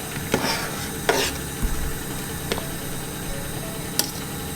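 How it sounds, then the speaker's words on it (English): A spoon scrapes and knocks around carrots and onions in a soup pot for salt beef soup, a handful of sharp, spaced clatters over a low, steady background sizzle. "carrots going in now. I'm just going to give that a stir"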